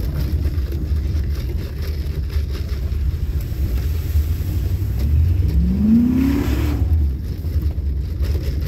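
A 1998 Dodge Dakota with a 318 V8 that has a worsening engine knock revs up, its steady loud rumble rising into a sweeping rev near the middle before settling back, with no talking.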